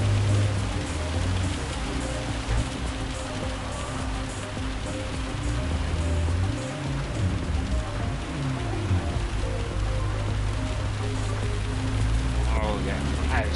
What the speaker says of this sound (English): this rain has really caught them by surprise by the look of it